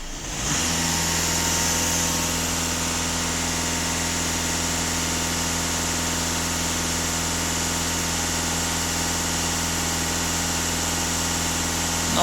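A VW or Skoda car engine starts up and settles into a steady idle, a close, even hum with layered tones that holds unchanged for the rest of the clip.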